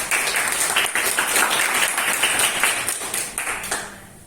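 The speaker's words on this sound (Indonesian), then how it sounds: "Tepuk tangan buat Zaki dong" Classroom audience claps for a student presenter during a discrete mathematics group presentation, a dense burst of many hands that holds steady, then fades away over the last half second.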